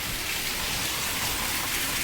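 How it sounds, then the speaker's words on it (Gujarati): Monsoon rain pours down steadily as an even, close broadband hiss that stays constant throughout the short stretch, with no voices. "એટલે વરસાદ આવી ગયો"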